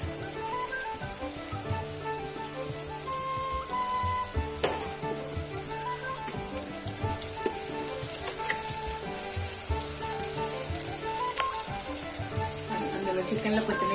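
Ginger and onion frying in a pan for chicken curry: a steady hiss of sizzling oil with scattered clinks and stirring knocks, and a voice talking over it.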